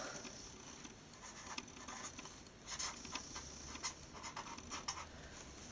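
A ballpoint pen scratches on paper in soft, quick strokes, faint and close, in short irregular bursts over quiet room noise.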